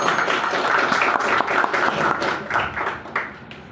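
Dense, lively applause from an audience at a school debate and quiz competition fills the air, steady and loud, tapering slightly toward the end.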